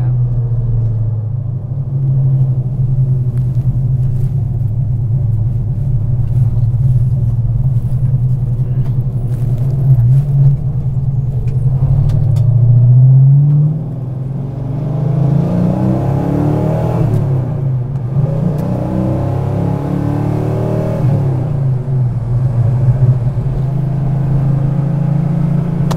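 Steady, loud engine rumble of a muscle car hot rod heard from the interior while cruising on the road, with brief revving swells and wind noise partway through, continuous throughout.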